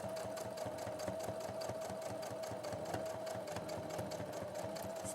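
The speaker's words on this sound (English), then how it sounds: "So this machine goes through it really well." Sewing machine stitching fabric at a steady fast rhythm, with a constant motor whine and even mechanical ticking, fairly quiet and without voices.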